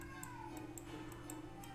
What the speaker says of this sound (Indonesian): ada kucing mau kawin loh di depan rumah saya loh